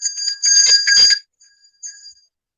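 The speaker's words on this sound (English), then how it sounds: "I'm going to ring this bell. Let me see how loud this is." A hand bell rung close by, two loud bright ringing bursts followed by a couple of short fainter jingles and quiet decaying tones.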